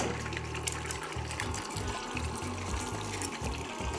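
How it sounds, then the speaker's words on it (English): Two eggs frying in a little oil in a skillet, a steady crackling sizzle with fine popping spatters, continuous and close, with a low background hum and no talking. "I'm simply going to add them to the skillet and let them fry."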